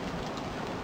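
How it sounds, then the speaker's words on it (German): Light rain falls in the video game Das Schwarze Auge: Schicksalsklinge, a brief, even hiss of drizzle that stays steady throughout with no talking. "Es regnet ein bisschen."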